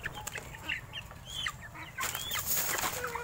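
Heritage breed chickens cluck softly in a free-range setting, with scattered short calls and chirps at moderate distance over a low outdoor background.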